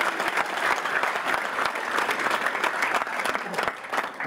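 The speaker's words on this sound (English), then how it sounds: "big round of applause to the coaching staff." At a youth football academy award night, the crowd claps for the coaching staff, and individual hand claps stand out sharply within a steady, moderately loud burst of applause that runs throughout.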